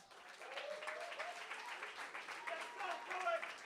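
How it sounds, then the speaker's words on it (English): Applause for a poet at a poetry slam finals, a crowd clapping fairly steadily, with voices and cheers mixed in across the whole stretch. "Let's applaud our poet."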